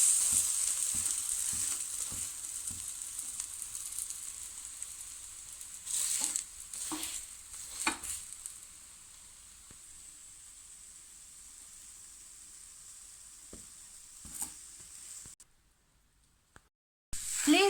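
Chickpea batter omelette frying in a pan, a faint steady sizzle with intermittent clicks and scraping sounds, dropping to near silence toward the end.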